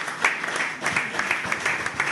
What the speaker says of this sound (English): a round of applause for JC